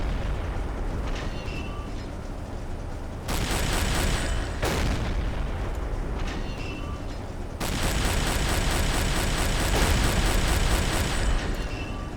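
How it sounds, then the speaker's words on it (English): Shells exploding close to a U-boat in Silent Hunter 3, heavy booms and rumbling blasts in repeated waves, loud and near, with a steady roar between impacts. "those rounds are landing close now"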